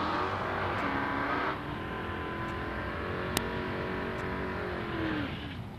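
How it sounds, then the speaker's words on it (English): A 1970 Ford Mustang drag car roars at a hot rod drag strip, its engine pitch climbing and holding in a long loud run, then fading away, with crowd and track noise in the background. "Red McGinnis going to get a head start."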